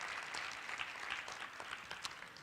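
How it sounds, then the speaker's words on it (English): A women's business conference audience in St. Louis applauds in a steady, faint wash of clapping from a distant room. "So give yourself a big round of applause."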